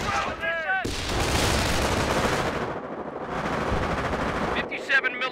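Heavy automatic gunfire and shelling roar almost without pause in a Company of Heroes battle, dense and loud, with brief gaps and a short voice at the start and end.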